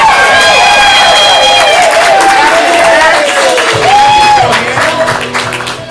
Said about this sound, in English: when you get to that level 3, big thunderous super applause